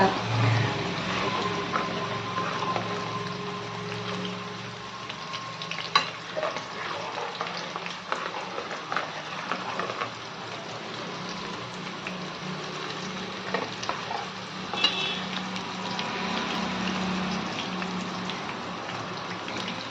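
Ingredients for tomato pickle fry in hot oil with a steady, close sizzle and crackle that continues throughout, with no one speaking.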